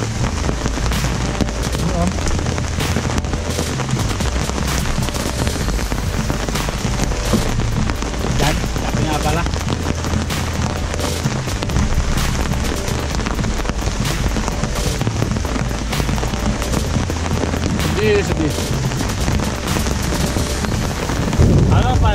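Steady, heavy rain pours down without pause on an outdoor fishing spot for giant freshwater prawns, a dense, loud hiss close by with scattered louder drops and low rumbles.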